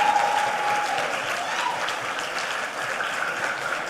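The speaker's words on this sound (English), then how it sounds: "Please, let's all of us give a sound applause for JA Africa for providing this opportunity." A crowd at a student competition day for JA Africa applauds, dense sustained clapping that blends into a steady wash of sound for the whole stretch.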